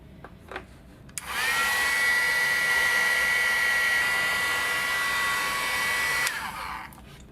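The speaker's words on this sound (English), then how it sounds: "And then heat gun. We're gonna add some heat on here." A heat gun melts embossing powder on vellum, its loud, steady blowing roar switching on after a brief pause, running evenly for about five seconds, then shutting off.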